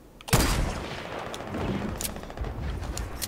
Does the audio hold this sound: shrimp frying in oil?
no